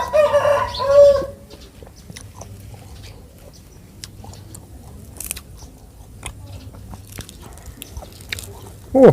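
Rooster crowing, with a loud crow at the start and another at the very end, separated by quiet rustling and small clicks in between.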